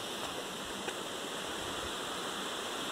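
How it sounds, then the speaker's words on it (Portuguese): A small waterfall near the top of a hillside road on a cycling route pours steadily, a constant loud rush of broadband water noise filling the whole moment with no pauses. "Pequena cachoeira aqui."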